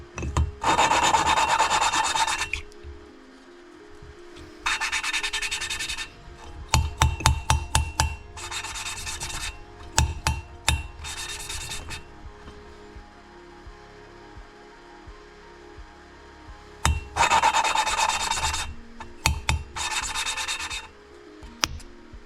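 Engine valves being lapped into their seats by hand, a gritty rasping rub in repeated bursts of back-and-forth strokes with short pauses between, close and fairly loud, with no talking.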